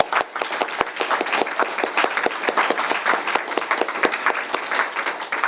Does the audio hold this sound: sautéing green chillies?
no